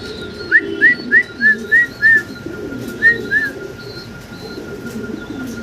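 A pair of fancy blue-bar pigeons coo in a run of short, clear rising calls, about six in quick succession, a pause, then two more, standing out close against a low background hum.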